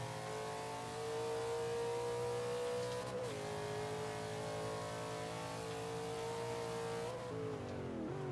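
A mid-engine Ultima GTR race car in Forza 5 holds a steady, loud engine drone at light throttle, then the pitch swoops down and back up near the end as the gear changes, with no talking over it.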